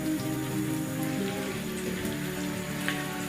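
Paste of onion, garlic, ginger, tomato and green chili for mutton biryani fries in a pan, giving a continuous close sizzle like rain on a surface, steady throughout without talk.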